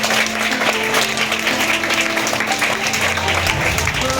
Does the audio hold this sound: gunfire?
no